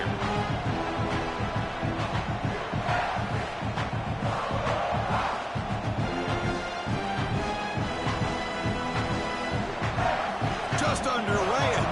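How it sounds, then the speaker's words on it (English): A roaring home crowd in a college football video game, steady and loud throughout, with game sounds and play-by-play commentary running underneath. "this home crowd is fired up and ready to make a difference today"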